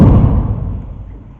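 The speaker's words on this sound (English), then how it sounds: "I'm going to step on this door, and I'm hoping it makes the same noise it did last time" A single heavy bang as someone steps onto a metal door, a loud booming thud that decays and echoes for over a second.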